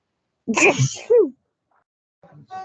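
A single loud, close sneeze during a community committee meeting, followed by a brief pause and a faint voice.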